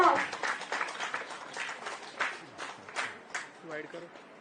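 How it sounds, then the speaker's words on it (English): An audience claps to welcome school participants at a science outreach event on India's Aditya L1 solar mission: uneven, moderately loud clapping that thins toward the end, where voices begin to be heard. "Let's welcome them with a big round of applause."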